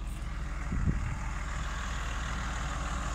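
A tractor engine bogged down and stuck while pulling a grain drill idles in a steady low rumble nearby, with one brief surge in the first second.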